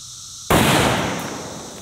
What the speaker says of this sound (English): next up, we have the 308 out of my newest rifle, the Savage Axis 308